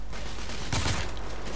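Gunfire in The Order 1886 on PS4: a single loud shot bursts out midway, briefly layered with a second crack, over a steady low in-game background rumble, with no voices.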